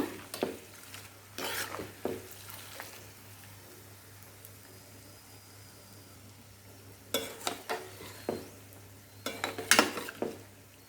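Tempering for a gooseberry pickle fries quietly in a pan, a soft steady sizzle broken by bursts of spoon stirring and scraping against the pan.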